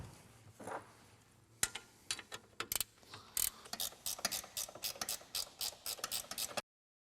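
Ratchet wrench loosening seat bolts in a Jeep TJ, faint clicking at first, then rapid sharp ratcheting clicks in uneven bursts close by, ending abruptly.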